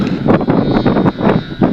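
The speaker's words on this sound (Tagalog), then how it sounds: "At pagdating kasi ng hapon dito mga kaidulan, malakas na yung hangin." Strong afternoon wind on high ground overlooking Tagaytay, Philippines, buffets the microphone in a constant loud roar with gusty surges and rumbling low-end noise, no voices heard.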